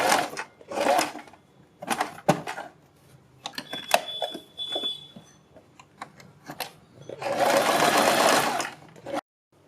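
Sewing machine stitching a high neck collar along buckram, in two loud sustained runs at the start and end with shorter bursts and clicks of handling between, no talk.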